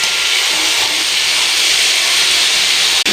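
Potatoes and pumpkin frying in a pan with chickpeas give off a loud, steady sizzle and hiss that runs unbroken throughout, with no talking.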